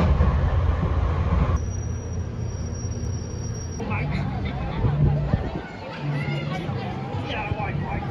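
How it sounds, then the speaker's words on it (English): Ride aboard a London Underground tube train, a steady loud rumble and rattle of the carriage with a brief high whine, under constant nearby chatter from passengers. "So we're here, we're on the tube."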